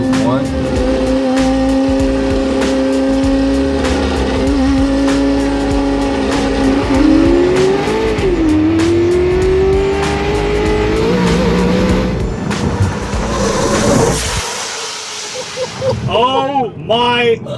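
A 1000 hp naturally aspirated C8 Corvette drift car with a 10,000 rpm engine, screaming loudly and up close with a sustained high-pitched wail that rises and falls, tires squealing as the revs climb and drop toward the end.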